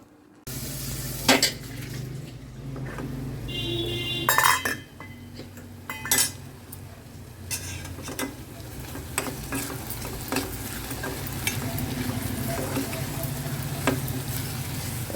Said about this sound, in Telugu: బెల్లం వేసి కలుపుతున్నా ఇలాచీ కూడా వేసిన